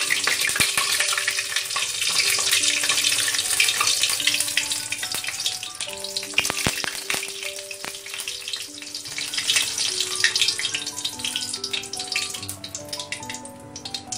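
Tadka of cumin seeds, a dry red chili and bay leaf sizzles and crackles in hot oil for a raw papaya dalna, a continuous close frying hiss that holds throughout with no talk.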